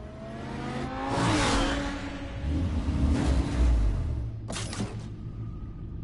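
Game car engine revving in Batman: The Telltale Series (Episode 2), a rising and falling whoosh of revs that swells, fades, then returns with a brief sharp burst near the end, loud and alone without talk.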